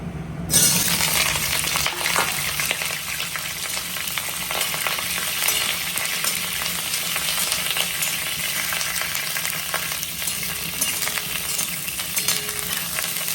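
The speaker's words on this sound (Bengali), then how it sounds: "ফুলকপিটা ভেজে নেবো।" Cauliflower frying in hot oil in a kadai, giving a steady, even sizzle that runs unbroken from start to finish with no voices over it.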